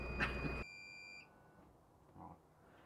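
Warning beeper in a motorhome: a loud burst of noise with a high electronic tone, then the tone fades out after a short moment, leaving a quiet hum and a brief faint bump.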